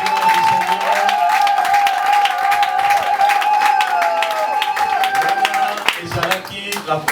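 A church congregation claps throughout a deacon consecration service, steady dense applause over sustained music or singing, close and fairly loud with no pause.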